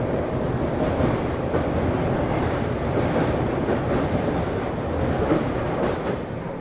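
Jammu Tawi Kanpur Superfast train rolling along the rails, a loud continuous rumble with a rhythmic clatter of wheels over track joints, heard close from on board.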